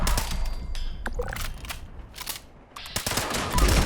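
Rapid bursts from a Furious Combat Rifle with a faster fire rate in Fallout 76, loud and close, with one dense stretch of automatic fire, a brief lull, then more quick shots.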